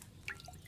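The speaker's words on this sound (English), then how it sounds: "Get a phial and pour it in." Potion poured from a cauldron into a glass phial in the video game Kingdom Come: Deliverance II, heard as a few soft, quiet liquid drips and trickles close by, with no talking.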